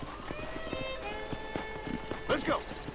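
Horse hooves clip-clop at a steady trotting rhythm in the Red Dead Redemption video game, close and clear. A short snort or whinny comes near the end, and someone talks over it.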